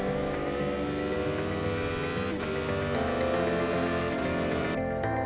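Race car engine in the iRacing sim on a lap of Oran Park, revving loud and continuous with shifting harmonic pitch through gear changes, close and steady throughout.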